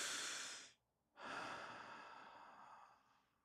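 A person breathing in deeply, then out slowly, each breath a long airy rush close to the mic, separated by a brief silent pause, quiet and unaccompanied by speech.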